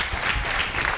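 An audience at a Tamil-language talk applauds with dense, steady clapping that holds at an even level throughout, with no voices.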